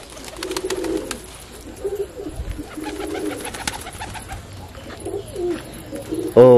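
Pigeons coo repeatedly at close range in a loft, low rounded calls recurring in bursts throughout, with a sharp louder sound at the very end.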